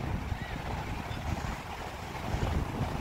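Strong wind roars across the microphone in a steady, rumbling gust with no voices, and a faint wash of grey sea in the background at a beach.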